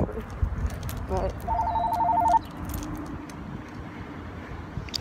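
A telephone at a hotel front desk gives one short electronic ring burst that then cuts off, set against quiet room noise and background murmur.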